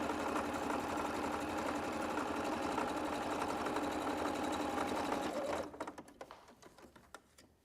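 Sewing machine stitching straight across a piece of fabric, a steady loud mechanical whir running unbroken for several seconds before stopping and leaving a few faint clicks and handling noises.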